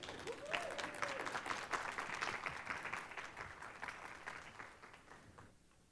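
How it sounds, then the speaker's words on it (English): An audience claps steadily as company founders walk to the stage at a hemp industry event, a lively patter that fades out toward the end with no talk over it. "can we keep the clap? Can we keep it going?"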